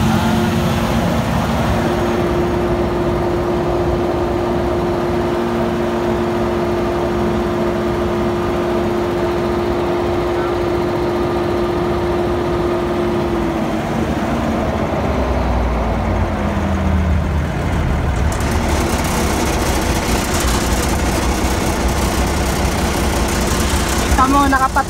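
A large generator runs continuously with a steady engine drone, the pitch shifting partway through before settling again, while someone speaks over it.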